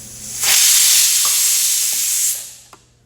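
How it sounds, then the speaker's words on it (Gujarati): Cumin seeds hit hot oil in a pan while cooking matar pulao, bursting into a loud, steady sizzle that holds for about two seconds before fading, with a faint tap near the end. "પછી જીરું નાખી દેવાનું"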